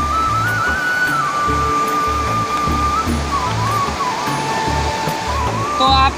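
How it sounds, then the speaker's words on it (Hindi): Fast water rushing through the seven gates of the Narora canal, a steady loud roar of broadband noise that holds for the whole stretch, with a faint whistling tone riding above it. "आप पानी देखिए एक बार जूम करके हम आपको दिखा रहे हैं पानी कितनी स्पीड से चल रहा है।"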